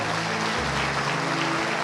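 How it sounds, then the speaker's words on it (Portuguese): A congregation at a church worship service claps together in a steady, dense wash of applause, with a sustained musical tone holding underneath throughout. "dê uma salva de palmas a Jesus"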